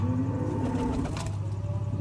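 Soft, low cooing from pigeons close by as they feed on grain, repeating over a busy background hum.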